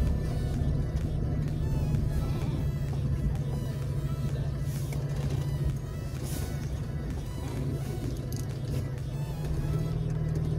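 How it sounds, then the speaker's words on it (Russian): An off-road car grinds along in second gear, its steady engine drone loud and close throughout with no pauses, near a river where the water has risen. "И, в принципе, еще так машинка едет."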